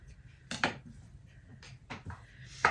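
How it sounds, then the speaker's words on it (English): Scissors trim quilt fabric in short, separate snips, close and moderately loud, with quiet pauses between the cuts. "I just come through and take my scissors and trim it off"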